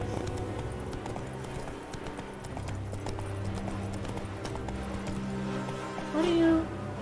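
Geralt's horse Roach gallops in The Witcher 3, a rapid, even clip-clop of hooves running steadily up close over low game ambience, with a brief voice near the end.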